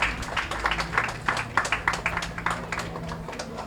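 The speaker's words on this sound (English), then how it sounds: "round of applause, please" Audience clapping at a national schools science fair closing ceremony prize giving, a short, moderately loud burst of applause from a hall crowd with faint voices underneath.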